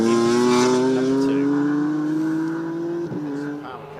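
A race car engine at The Bend Motorsport Park, a loud sustained whine that rises slowly in pitch as the car pulls along the circuit, then fades slightly near the end.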